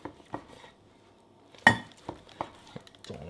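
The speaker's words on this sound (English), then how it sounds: "Those knives are just cutting through this like butter." A knife cuts through a rested pork tenderloin on a plate, giving a few soft scrapes and taps against the plate, with one sharper clink partway through, in an otherwise quiet kitchen.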